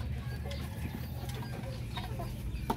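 Darag native chickens cluck in a backyard, faint and scattered, under a steady low background hum.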